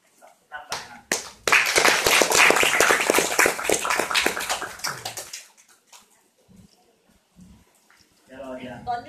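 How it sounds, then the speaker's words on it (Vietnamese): An audience bursts into lively applause that peaks quickly, holds for a few seconds and then thins into scattered claps, followed by quieter moments and a voice speaking near the end. "chúng ta dành một tràng pháo tay dành cho"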